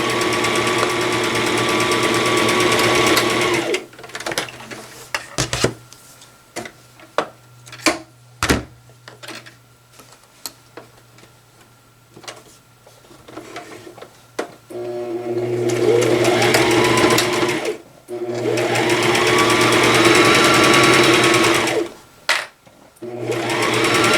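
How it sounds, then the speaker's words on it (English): Sewing machine stitching a quarter-inch seam around a cross stitch pillow, a loud steady whirring hum in long runs separated by pauses filled with small clicks and handling knocks, no voices. "I'm just going to go around this all the way with a 1/2 inch, 1/4 inch seam, and I will kind of do the back stitch on the edges"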